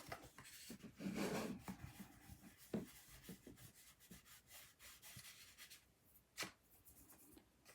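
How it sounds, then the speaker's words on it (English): Soft, close rubbing strokes come in short bursts as something is wiped off a surface during stamp crafting by hand, faint and quiet throughout. "And then I'm just going to rub this off"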